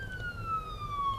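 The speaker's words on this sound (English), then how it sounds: "wow, a second ambulance, you're getting like a bonus" An ambulance siren wails in Nashville stop-and-go traffic, a faint, steady descending tone heard from inside a vehicle over low road rumble, with no talking.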